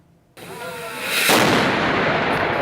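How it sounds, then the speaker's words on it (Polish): A bombard cannon fires at a castle wedding fair, one loud, sharp blast from near silence followed by a long, roaring rumble that decays slowly, with no speech. "Wystrzałem z bombardy rozpoczął się niedzielny Royal Wedding Day na Zamku Kliczków."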